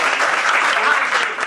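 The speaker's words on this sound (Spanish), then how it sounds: "¡Un aplauso para" Loud, steady applause from a crowd, a dense wash of clapping that fills the whole moment without pause.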